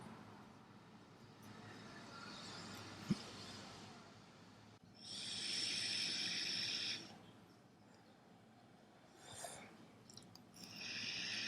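Inhalation through a Lost Vape Ursa Mini pod vape set to 20 watts with the airflow fully open: a faint, breathy airy draw rising for a couple of seconds, then quieter hissing pulls, close and soft with no talking.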